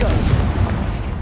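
A Confringo blasting spell fires in Hogwarts Legacy: one dense, rumbling burst of blast noise that fills the whole short moment, loud and close.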